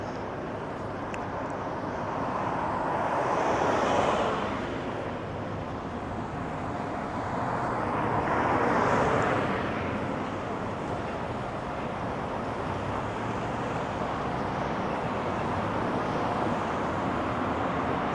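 An UP Express airport train bound for Pearson Airport passes along a Toronto street with a broad rushing roar that swells twice. It sits over steady traffic and wind noise, heard from a short distance.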